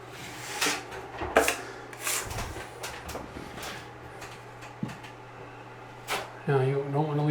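Steel trowel scraping and smoothing drywall mud during a bathroom remodel, producing repeated short rasping strokes at close range, with talk over parts of it.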